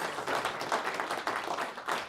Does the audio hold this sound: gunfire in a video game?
no